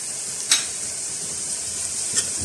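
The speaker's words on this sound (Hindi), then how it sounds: "ज़रा सा इसमें ज़ीरे को और मसाले को इसके अंदर भूनेंगे" Onions with garam masala and cumin roasting in a pan for a mutton khara masala, a soft steady sizzle with two brief sharp scrapes or clinks of stirring.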